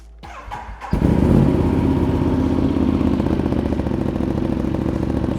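Ducati Diavel motorcycle engine starting after a new rear tyre fit: a brief starter whir, then the engine catches loudly and settles into a deep, throbbing idle, close by and steady.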